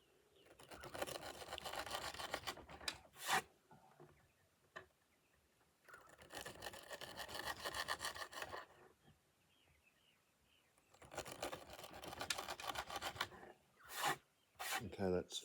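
A knife blade made of 8Cr13MoV steel slicing through new rope during a cut test, three long rough rasping strokes separated by pauses, with a few sharp snaps as strands part, close and unvoiced.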